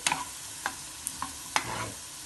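Garlic frying in a pan for pineapple chutney, heard as a quiet background sizzle broken by several sharp scraping stirs of a spoon against the pan, spaced irregularly.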